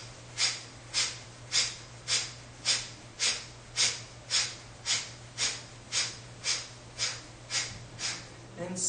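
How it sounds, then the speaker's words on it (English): Kapalabhati yoga breathing: about fifteen sharp, forceful nasal exhales in a steady, even rhythm, each a quick puff of air, close and fairly quiet with nothing else over them. "Let's do Kapalabhati, forceful exhales to finish."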